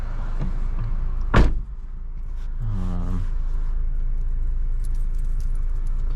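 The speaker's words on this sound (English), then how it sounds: "Let me close the door." A single solid thump of a 2006 Honda Civic DX's door shutting, close by, followed by a quiet cabin hum and a brief chime.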